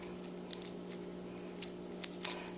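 A raw shrimp is shelled by hand, giving faint, close, irregular little crackles and squishy clicks with a few sharper snaps, against a quiet steady hum.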